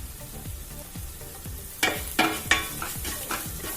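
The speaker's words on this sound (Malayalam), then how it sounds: "ഒരു 2-3 മിനിറ്റ് ഈ മീഡിയം ഫ്ലെയിമിൽ തന്നെ വെച്ച് നമുക്ക് ഒന്ന് ഇളക്കി കൊടുക്കാം" Chicken curry masala for a creamy Kerala-style coconut chicken curry being stirred in a pan over a medium flame, with soft scraping strokes and a few sharper clatters of the spoon against the pan, no talking.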